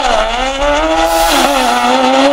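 Toyota MR2 fitted with a Hayabusa 1300 motorcycle engine, screaming at high revs during a handbrake turn, loud and close, the pitch dipping and climbing as tires squeal throughout.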